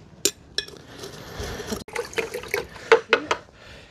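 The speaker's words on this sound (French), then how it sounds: "je vais prendre 3 cuillères à soupe de cendre de bois que je vais mettre dans mon eau." Three tablespoons of wood ash stirred into water in a vessel to make a garlic feed: a few sharp clinks and pours at the start, then soft swishing and splashing with bright splashes near the end, close and fairly quiet.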